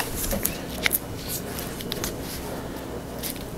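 Cheap electrical tape is wrapped around a bicycle handlebar fitted with a SRAM Force 22 shifter, making continuous close crinkling and rustling with a few sharp little snaps.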